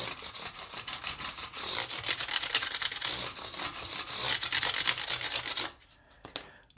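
Fret ends on a Gibson Les Paul Junior being sanded through progressively finer grits, a steady close scratchy rubbing in rapid back-and-forth strokes that stops abruptly near the end, leaving near silence with a faint tap.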